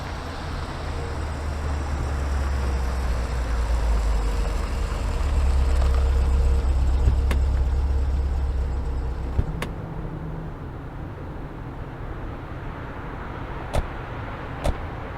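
Steady car engine and road rumble while driving through traffic near Bagru in hot weather, a low continuous hum that swells midway, with a couple of faint sharp clicks later.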